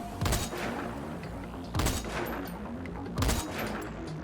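Three loud sniper rifle shots in a third-person shooter game, evenly spaced about a second and a half apart, each a sharp close crack with a decaying tail over a steady background hum.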